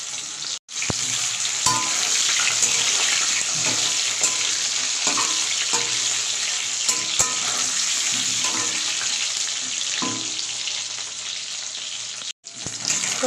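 Potatoes frying in hot oil in a pan, a loud continuous crackling sizzle lasting throughout with scattered pops and two brief sharp cuts in the sound.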